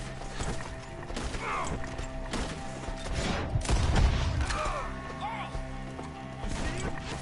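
Scattered gunshots in Red Dead Redemption 2 during a shootout with enemies up in trees, irregular cracks and bangs under frequent shouted talk, with a heavier rumble midway.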